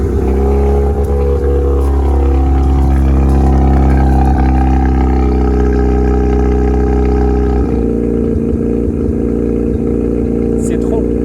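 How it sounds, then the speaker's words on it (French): A Mazda RX7 rotary engine revs loudly in a sustained, buzzy howl that rises and then drops off sharply near the end, close and dominant while someone talks over it. "C'est cool quand tu as un moteur Rotary, tu vois. C'est stylé, le bruit et tout et tout."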